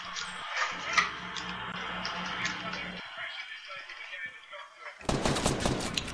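Gunfire in the video game Fortnite, a run of sharp rapid shots and ticks in the game mix under a hum, with a bright noisy burst near the end.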